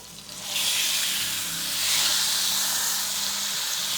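Fat side of a salted rack of lamb searing in a very hot pan, a loud continuous hiss and sizzle that swells after a brief quieter start and stays dense throughout.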